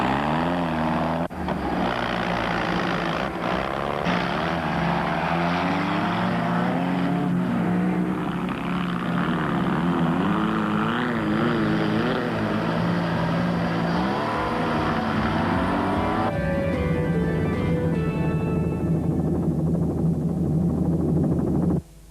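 Off-road racing vehicles drive through mud during the 1988 Sun City 400, engines roaring loudly and continuously for a long stretch, revving up and down as they labor, with a shift in pitch late on.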